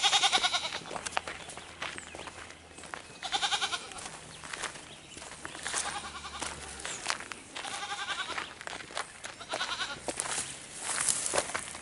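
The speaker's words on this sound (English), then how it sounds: "Another goat." Goats tied along a roadside in Jamaica bleat repeatedly, several overlapping wavering cries from nearby animals over outdoor background noise, with a few footsteps.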